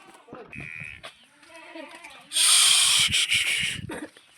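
Goats, including a nanny with three kids, bleat a few times among people talking nearby in a village, with a loud rushing hiss swelling up midway through.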